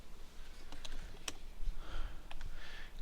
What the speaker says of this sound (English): Excuse me while I fumble around my new keyboard.